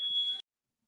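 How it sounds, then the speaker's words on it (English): A smoke alarm goes off indoors with one shrill, high-pitched electronic beep lasting under half a second, fairly close and clear, followed by silence. "I have a smoke alarm going off right now."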